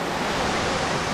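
Cachoeira do Bicho waterfall in Pirassununga, São Paulo, in the late afternoon: a steady, dense rush of falling water that fills the whole clip with no pauses and no voices.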